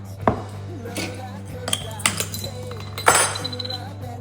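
A sauce with soy sauce, avocado oil and oyster sauce is mixed in a small dish, giving a few sharp clinks of a utensil against the dish, spaced irregularly over a low background hum.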